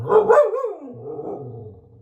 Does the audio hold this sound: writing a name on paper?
no